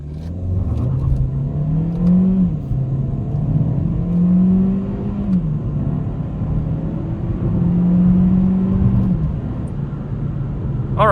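A Kia XCeed 1.5 T-GDI 160 hp accelerates hard from 0 to 100 km/h, its engine droning loud and close inside the cabin, climbing in pitch through several gear changes with brief dips between.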